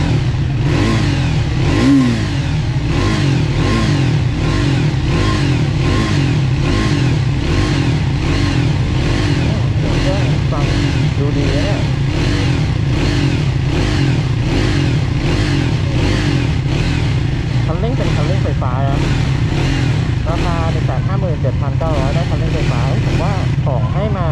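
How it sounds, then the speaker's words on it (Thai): A 2024 Triumph Speed 400 single-cylinder motorcycle engine runs and revs steadily and loudly up close, with a constant throbbing drone and a voice talking over it. "เดี๋ยวมาลองฟังเสียงเครื่องยนต์ดูนะ"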